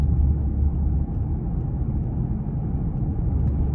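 A 2017 Maserati Ghibli SQ4 cruises quietly in ICE mode, a steady low engine and road rumble heard from inside the cabin, even and unbroken, with no voices.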